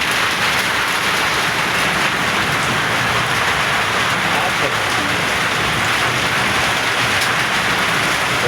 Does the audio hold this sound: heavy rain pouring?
yes